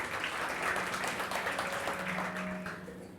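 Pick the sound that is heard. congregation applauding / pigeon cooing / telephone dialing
congregation applauding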